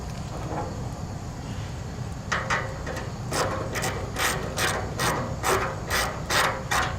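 A ratchet wrench tightens a bolt on the cutting knives of a Jansen GTS-1500 wood chipper, with a steady run of sharp, rhythmic clicking strokes over a low background hum.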